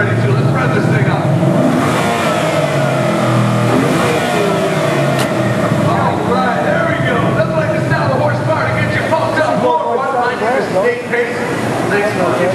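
A Ford Mustang Boss 302 engine on a dynamometer at an auto show, revving hard and loud with crowd chatter and voices underneath.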